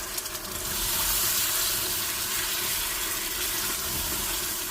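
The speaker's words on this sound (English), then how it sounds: "Some stock inside. Put it gently so that it does not splash." Stock poured gently into a pan of frying egusi (melon seed) soup, a steady, close liquid stream that swells after a brief start and runs on without a break, no voices.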